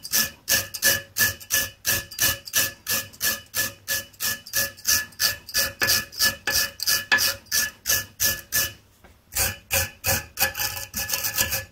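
Suzuki KingQuad ATV front brake caliper clamped in a vise, its contact points scraped clean with a file or brush: rapid, even rasping strokes repeating steadily and close up, with one short pause before the strokes resume.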